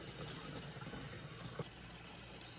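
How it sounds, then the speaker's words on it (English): Water from a sink faucet runs steadily through a Hygger aquarium siphon attached to the tap, a faint, even rushing flow with one small splash partway through and no talk. "this is actually the Hygger siphon that you can attach to your sink faucet"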